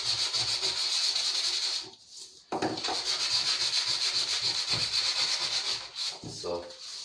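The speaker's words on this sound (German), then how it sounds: "Ich gehe mal vorher einmal kurz noch mal mit Schleifpapier ein bisschen drüber." Sandpaper rubbed by hand over rusty sheet metal, a harsh rasping scrape in long back-and-forth strokes, close and fairly loud, breaking off briefly near the middle before resuming.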